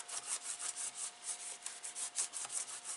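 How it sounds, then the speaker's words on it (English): Rhythmic rubbing strokes brush back and forth over a glued joint on a paper gift box, a soft dry scratching repeated close up in an even, quick pattern. "And just give that a rub."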